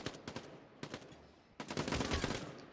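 Rapid SMG and pistol gunfire trade in a Quantum League 1v1 match, with short bursts and single shots in separate clusters, then a denser, louder volley toward the end.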